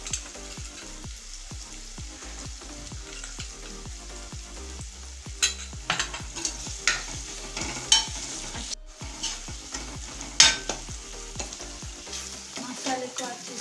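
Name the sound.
onion garlic masala being stirred and fried in pan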